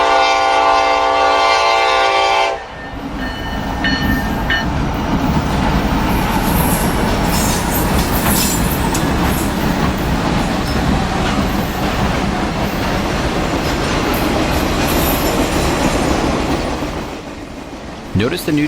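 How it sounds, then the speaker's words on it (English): A Norfolk Southern freight train, led by a heritage unit in Virginian colors, rolls past eastbound with a loud horn blast at first, then a long roaring rumble of wheels and cars, faint voices briefly underneath. "NS train number 376 heads east."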